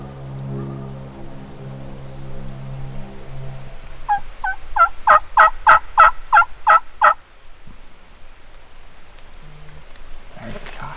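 Wild turkeys gobbling during a hunt in South Florida: a burst of about eight sharp rattling gobbles in quick succession, fairly close and loud, after quiet murmured talk and rustling, with faint sounds following.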